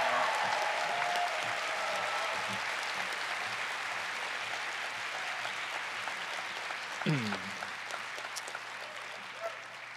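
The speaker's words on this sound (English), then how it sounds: "I'm gonna ask you to give them big rounds of applause." Applause from a theatre audience at a PaleyFest LA panel for the TV series Pose greets a panelist, a dense, steady wash of clapping sustained for several seconds with faint crowd noise.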